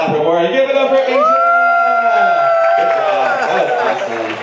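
A small group of people aboard a boat cheers loudly for Asia, with close, rising whoops and excited voices sustained throughout.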